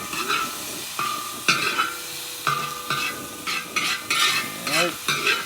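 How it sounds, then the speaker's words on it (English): Mushrooms stir-frying in a hot pan for shrimp fried rice, a sizzle broken by repeated loud scrapes and tosses of the spatula in uneven bursts. "let's put in our mushrooms next"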